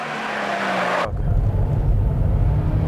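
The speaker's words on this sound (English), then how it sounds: "While the Megane loses traction from excessive power, the Opel Astra is giving full throttle." An Opel Astra on a race track, run at full throttle in an acceleration contest: a loud engine note that suddenly drops into a deep, rumbling roar partway through, close and continuous with no talk.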